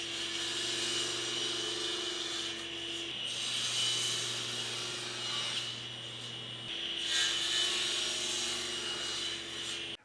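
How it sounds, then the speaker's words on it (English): Cherry bed rail boards being cut to final length with a saw, a steady rasping hum that runs throughout at moderate level with slight swells in the middle and near the end. "Now I'm going to square one end, flip the board around, and cut them all to their final length."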